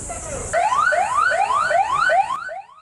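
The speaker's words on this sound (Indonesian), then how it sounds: "Bunyi keras sirine tanda bahaya terus menggaung di seantero pangkalan utama TNI Angkatan Laut 6 Makassar." A loud danger-warning siren wails across a naval base during an air-raid defence drill, its rising sweeps repeating about every half second in steady cycles before cutting off near the end.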